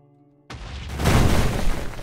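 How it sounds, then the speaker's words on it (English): Toxic grenade in the HBM Tech Mod game: silence, then a sudden burst, followed by a loud, rumbling, sustained blast that keeps roaring to the end. "Next one we have is the toxic grenade"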